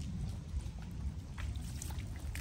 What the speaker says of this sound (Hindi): इसमें बारिश का पानी जा रहा है